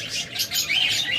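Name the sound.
tame pet birds chirping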